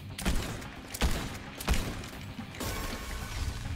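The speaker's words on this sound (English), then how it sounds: "It's a double pump shotgun." Double pump shotgun shots in the Fortnite video game, three or four sharp booming blasts spaced about a second apart over a dense, steady bed of game noise.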